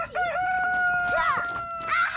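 Chickens and a rooster outdoors near a river, with a rooster's crow ringing out loudly in repeated drawn-out calls over scattered clucks and soft background noise.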